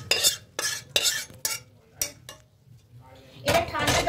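Clattering bursts of boiled chow mein noodles and water tipped into a perforated bowl, with sharp metallic knocks and splashes in uneven spurts, close up, separated by short quiet gaps.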